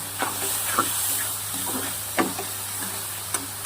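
Chopped onion with cumin, turmeric and coriander powder fries in hot tempering oil, a constant hissing sizzle with a few sharp spoon scrapes and taps breaking through.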